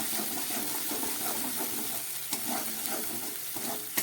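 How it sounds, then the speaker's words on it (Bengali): Vegetables stir-frying in a pan with ginger and garlic paste for an eggplant dish, a continuous moderate sizzle broken by occasional scrapes and clinks of stirring, close and without speech. "সবজিগুলোকে খুব ভালো করে কষিয়ে নিচ্ছি।"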